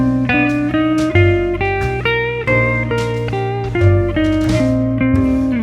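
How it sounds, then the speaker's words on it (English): Jazz guitar plays quarter-note triplets, sounding clean sustained chords and notes in an even three-against-two pulse, close and alone with no talking. "quarter triplets are 3 notes per 2 beat,"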